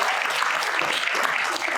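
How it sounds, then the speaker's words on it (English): An audience at a conference opening keynote claps throughout, a dense, even wash of applause from the crowd with no break. "So let's first clap for Dãnia."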